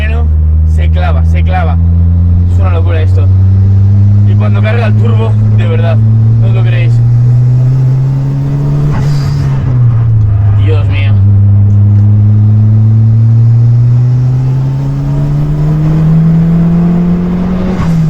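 An 1980s Ford Escort fitted with a roughly 300 hp turbocharged rally engine accelerates hard, its loud, close engine note climbing through the gears, while someone talks over it throughout.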